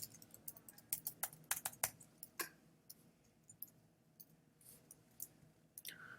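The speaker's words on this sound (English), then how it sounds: "I'm typing capital letters and it's making them lowercase for me." Typing on a computer keyboard during iOS programming work: a scattered run of quick, crisp key clicks, busier at first and then sparser, close and fairly quiet with no talk.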